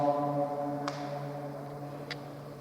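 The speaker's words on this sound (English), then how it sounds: "It's such a good echo." A sustained chant rings on and fades as a long reverberant echo inside a rock-cut Buddhist cave at Ajanta, steady hum-like tones hanging in the air, with a couple of faint sharp sounds above.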